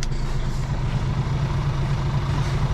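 A 24-metre Scania truck with trailer reverses, its diesel engine rumbling in a steady low idle, close and continuous with no breaks.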